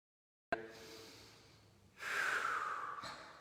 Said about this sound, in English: Last 2 deep breaths